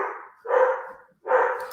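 A dog barks three times at close range, each bark loud and sharp with short silent gaps between them, and no talking.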